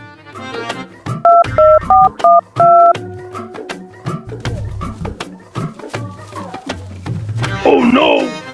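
A phone is dialled to call Inspector Daya, giving a quick series of distinct beeping keypad tones. Voices talk around the tones.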